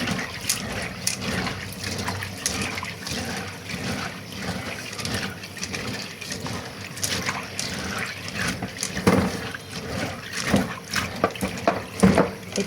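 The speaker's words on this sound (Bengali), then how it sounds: "এই যে কালো কালো ময়লা পানি বের হচ্ছে, দেখেন ময়লা আসছে।" Water splashes and sloshes as something is washed and the dirty water is poured out, giving irregular close-up splashes and trickles with frequent handling clatter and no clear talk.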